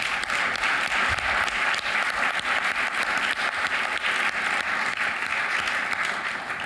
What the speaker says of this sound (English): Let's hear a round of applause for our friends and partners at the VA.